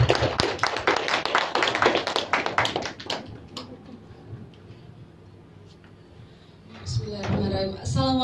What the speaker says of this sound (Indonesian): Tepuk tangan Bapak Ibu semua.